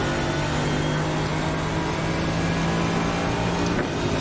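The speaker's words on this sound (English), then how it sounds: "I think it's the Audi. It sounds gorgeous." An Audi GT3 race car engine in the iRacing sim holds a steady, loud, droning tone at near-constant revs, heard close without any talk.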